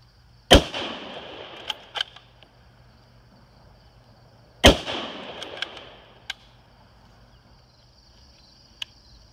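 A Ruger Gunsite Scout rifle fires two sharp, loud shots about four seconds apart outdoors, each followed by a decaying echo and faint distant clinks, with insects chirping quietly in the background.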